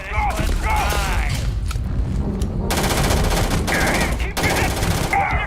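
Sci-fi gunfire from Starfield, bursts of rapid automatic shots and heavy blasts in loud clustered volleys, with mechanical clanks and a voice briefly heard between bursts.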